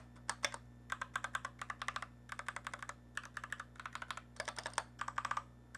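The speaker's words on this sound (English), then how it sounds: "Now you guys can hear the I love keyboard sound." Quick bursts of keystrokes on a tape-modded iLovBee i61 budget mechanical keyboard, close and crisp, coming in rhythmic clusters with brief pauses between them over a faint steady hum.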